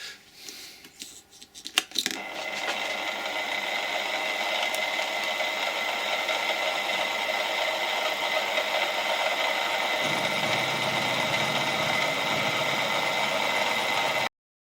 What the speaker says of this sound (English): I have been milling around the edge of the prototype sump